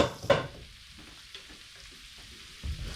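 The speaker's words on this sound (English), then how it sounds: "while we're cooking the shrimp" Shrimp cooks in a pan with a faint, soft sizzle and a few quiet stirring taps. One sharp clatter comes near the start and a louder bump at the end, with no talk.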